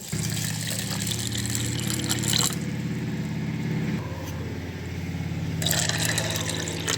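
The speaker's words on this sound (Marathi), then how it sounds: "आता याला 2-3 पाण्यामध्ये धुवून घेते." Toor dal is rinsed in water: soft sloshing and squishing of grains in liquid, close and moderate, over a steady low mechanical hum.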